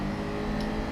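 A GR4 race car in a racing video game launches off the line at Monza, its engine droning at a steady high, even pitch for a moment.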